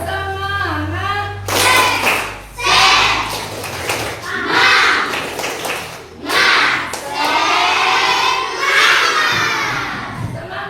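A group of schoolchildren in a classroom performs a rhythmic clapping chant, shouting together in loud bursts with claps between phrases, ending in cheering; an adult voice leads at the start.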